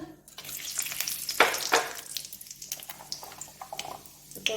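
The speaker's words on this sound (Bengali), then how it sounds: "গোটা গরম মশলাটা তেলে দিয়ে দিলাম" Whole garam masala and sugar frying in hot oil for a Bengali mutton curry, giving a steady close crackle and sizzle with sharper spitting bursts and light stirring scrapes.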